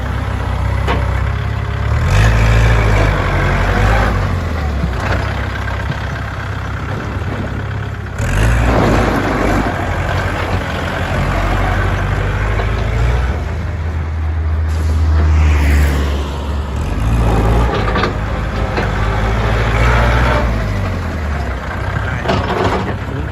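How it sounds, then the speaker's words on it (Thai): A Kubota L4708 tractor engine runs while being driven, a loud, steady low diesel rumble with rising and falling surges and some clanking, close by without talk. "ช่างขับเลยครับ เครื่องนิ่มๆติดง่ายๆนะครับผม"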